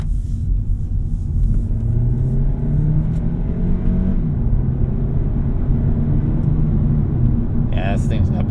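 A 2025 Hyundai Elantra Hybrid Limited pulls forward under acceleration, its steady low engine and road rumble rising slightly in pitch, loud and close from inside the cabin.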